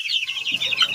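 Chickens on a poultry farm, some of them sick, clucking in quick overlapping bursts, close and fairly loud throughout with no talk.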